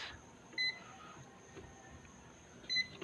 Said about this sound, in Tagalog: So, nagbuzzer yung tester natin.